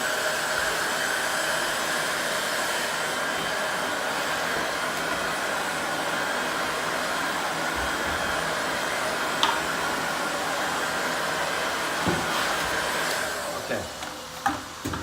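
A hot air blower runs steadily and loudly at close range, heating wallpaper during a repair, a continuous roaring whoosh that holds for about thirteen seconds before cutting out, with faint handling noises at the end.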